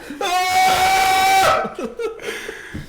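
A man imitates a loud scream of pain from someone shot in the leg, a long strained, tonal yell that breaks off into laughter and chatter from others nearby.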